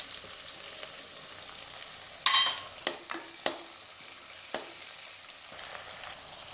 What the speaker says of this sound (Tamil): சின்ன வெங்காயம் ஓரளவுக்கு நல்லா வதங்கட்டும்.